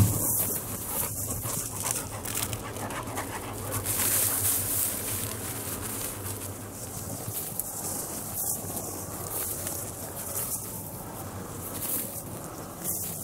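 Hunting dogs pant and snuffle close by during a quail hunt outdoors, with quick rhythmic breaths, brief whimpers and rustling movement over about thirteen seconds, and no talk.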